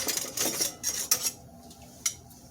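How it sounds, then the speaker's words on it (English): Metal tongs tossing a flank roast in a Mexican-style marinade, giving short clinking and wet rubbing scrapes in a few irregular bursts, close and fairly quiet with no talking. "I'm looking for some tongs to mix it up."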